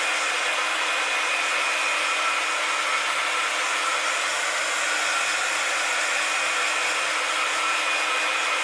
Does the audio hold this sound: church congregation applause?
no